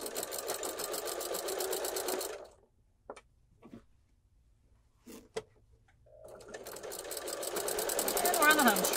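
Sewing machine stitching an envelope-closure pillow, its fast steady needle chatter running loud at the start and again at the end, with a quieter stretch between where a person speaks briefly over faint taps.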